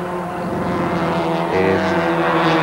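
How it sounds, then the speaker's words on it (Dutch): Group N saloon racing cars, among them a 2-litre Opel, circuit racing at Kyalami in 1988, several coming down side by side; a loud, steady multi-engine drone with shifting pitch, swelling louder near the end. "Nou gaan ons sien dat hierdie motors, 4 van hierdie motors langs mekaar afkom en Dirk Nolte ook in die agtertou"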